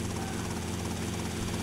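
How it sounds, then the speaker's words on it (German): A helicopter in GTA Vice City makes a steady, loud rotor thump and engine drone throughout, with no speech over it. "ich muss jetzt mit dem Helikopter ihre Stretch-Limo verfolgen"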